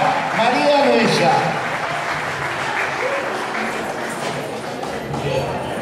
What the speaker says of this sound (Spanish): pero vamos a convocar en esta oportunidad, recibiéndolo con un fuerte aplauso, a Jorge Alberto Garay